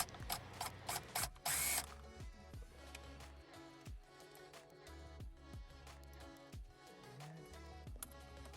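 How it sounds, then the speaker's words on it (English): A 10mm Allen wrench bit works loose the steering wheel bolts on a manual six-speed Challenger, giving quick ratcheting clicks and mechanical rattles close by, with a louder burst near the start, then steady clicking. "I believe this was a 10mm Allen wrench bit"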